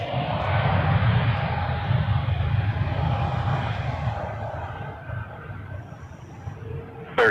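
A Flair Airlines Boeing 737 MAX 8 departing Toronto Pearson, its engines a loud, steady, broadband roar that holds for several seconds and eases slightly toward the end.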